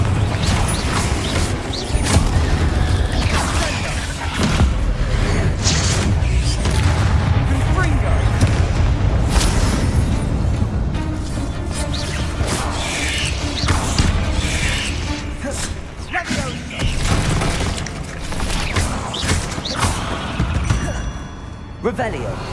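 Spell blasts from Bombarda and Confringo in Hogwarts Legacy, each a heavy booming burst that rolls in a steady stream over dense, rumbling game sound and music.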